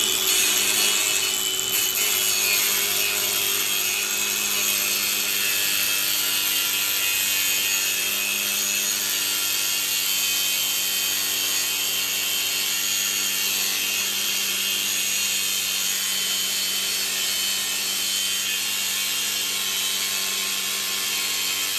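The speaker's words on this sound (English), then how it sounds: "I got a grinder right here." An angle grinder cuts through a metal part while a combine is readied for corn harvest, a steady, loud, high whine that runs unbroken for the whole stretch with no talk over it.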